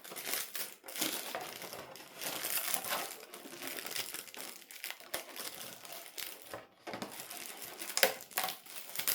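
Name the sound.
peeling protective plastic film off a painted Tamiya RC car body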